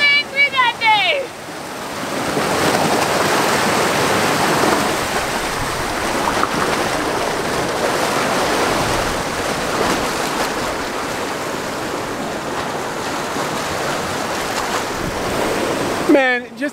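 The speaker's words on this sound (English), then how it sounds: "The sea was angry that day." Rough sea waves crash and roar continuously along the rocky coast of Vis, Croatia, a loud, sustained surf with wind buffeting the microphone, a brief voice at the start and end.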